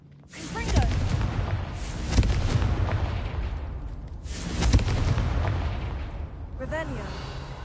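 Confringo fire-blast spells explode in Hogwarts Legacy, several booming bursts spaced a couple of seconds apart with crackling, rumbling tails between them, loud and close.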